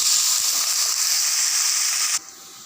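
Sliced onions and curry leaves fry in hot oil for a green pulao, making a loud, steady hiss that stops abruptly near the end and leaves a quieter tail.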